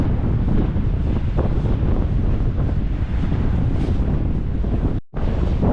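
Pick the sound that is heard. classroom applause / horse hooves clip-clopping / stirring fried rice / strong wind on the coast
strong wind on the coast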